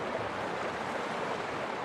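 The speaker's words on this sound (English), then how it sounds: "a river," Continuous river water ambience from the DroneLab Pro iPad soundscape app, a dense, even roar of flowing water with low rumble, steady throughout and unbroken by any voice.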